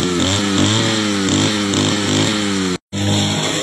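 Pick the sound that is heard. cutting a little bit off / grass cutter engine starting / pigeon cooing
grass cutter engine starting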